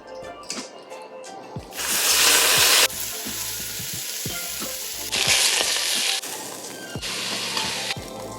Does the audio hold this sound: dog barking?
no